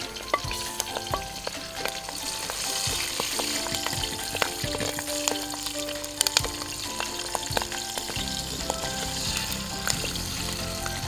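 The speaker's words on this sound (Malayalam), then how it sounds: "ചെറുതായിട്ടൊന്ന് വാടുമ്പോഴേക്കും നമുക്കതിലേക്ക് വെളുത്തുള്ളി ചേർക്കാം" Garlic and green chillies frying in a pan for Kerala-style kappa biriyani, a steady close sizzle with intermittent stirring scrapes throughout, no talking.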